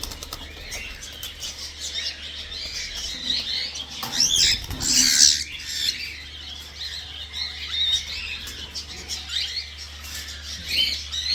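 Many birds gather around a harvest field, chirping and flapping continuously with dense high twittering throughout, a louder burst of wingbeats and squawks midway, and a steady low hum underneath.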